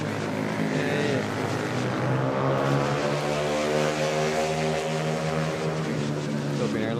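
Philippine Airlines aircraft arriving from Caticlan at Manila airport, a droning, pulsing engine with layered steady tones throughout, close and fairly loud, with faint voices in the background.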